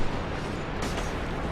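Explosions in Dark Souls, in a catacombs area with skeletons and a necromancer: a dense, rumbling game soundscape with a sharp blast around the middle, no talk.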